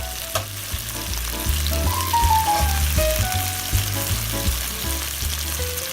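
Chicken pieces frying in a pan with mustard and butter, crackling and sizzling steadily and close up, with a few clinks and scrapes of stirring.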